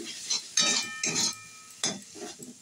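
Spices are stir-fried in a pan for a pointed gourd curry. A metal spatula scrapes and clinks against the pan in a series of short, distinct strokes with quiet gaps between them, close by and without talk.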